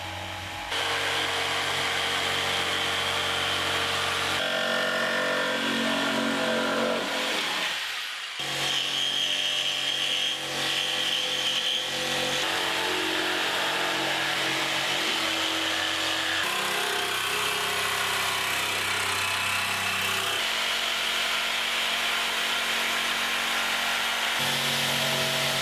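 A Bosch GST 140 jigsaw cuts through wood with a loud, continuous buzzing rasp whose pitch and intensity shift between passes, with a short pause in the middle and no talking.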